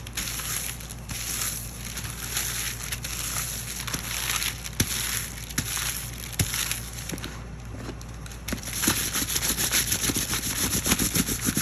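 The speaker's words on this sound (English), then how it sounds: "you put it on top of there and you rub it down. Keep rubbing it." Parchment paper is rubbed firmly by hand over a hot glue stencil, making a continuous scratchy rubbing with periodic sharper scrapes and taps under a steady background hiss.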